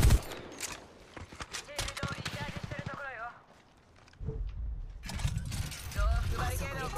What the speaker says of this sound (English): Somebody else seems to be shooting at them.